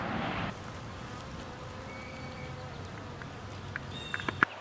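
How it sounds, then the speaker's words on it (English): Bees fly around a garden pond where they come to gather water. Faint, thin buzzing drifts in and out over quiet outdoor background, with a louder rustle at the start and a few brief close knocks near the end. "Bees like the pond. They come in here and haul their water."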